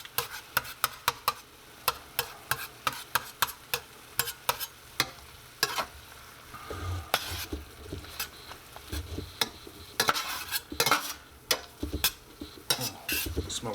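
Tomato paste cooks and is stirred in a pan for a rabbit dish, with a soft steady sizzle under frequent close scraping and tapping strokes of a utensil against the pan, fairly quiet and with no voices.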